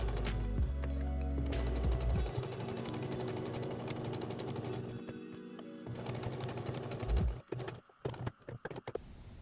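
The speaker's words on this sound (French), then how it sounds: "Et je couds tout autour en faisant attention à bien suivre le bord." A domestic sewing machine stitching around the edge of a piece of fabric for a washable makeup-remover wipe, a close, steady mechanical whir that stops and restarts in short bursts near the end.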